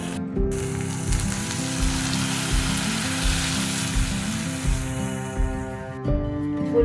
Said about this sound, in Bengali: মশলা কষানো হয়ে গেছে তেলও ছেড়ে চলে এসছে এবার দিয়ে দেবো পরিমাণ মতো জল